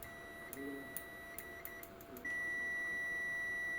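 Continuity test beep from a Zoyi ZT-R01 multimeter: a thin steady electronic tone, first in short stuttering bursts as the probes make contact, then holding continuously to the end, fairly quiet over faint background noise.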